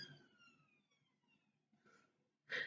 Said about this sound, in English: Sorry, sirens.